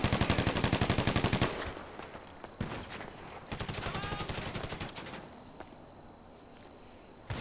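Rapid bursts of gunfire in GTA 5 Online, a fast automatic volley at the start followed by scattered shots and heavier blasts, loud and close, with brief voices between the shots.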